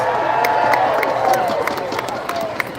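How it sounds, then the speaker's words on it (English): Spectators at the Red Bull Soapbox race in Edmonton cheer and clap steadily, a dense wash of crowd noise with scattered sharp claps. "Come on, crowd, give them some noise."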